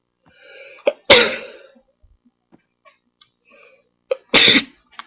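Two loud, abrupt human sneezes about three seconds apart, each with a short breathy intake before the burst, near and alone.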